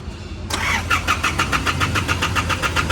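An Isuzu D-Max diesel engine, repaired for shaking, sluggish power and black smoke, fires up abruptly and settles into a loud, close idle in neutral with a steady rhythmic pulse and no talking.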